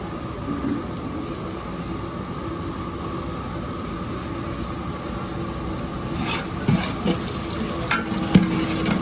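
Curry leaves and onions fry in a big pot for a traditional mutton dish cooked for 150 people. A steady, loud sizzle runs throughout, with a few scraping stirs breaking through near the end.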